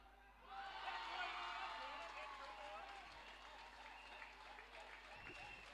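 Spectators applauding at a cricket tournament match, a burst of clapping that swells early then continues steadily but fainter, with some crowd noise and distant voices.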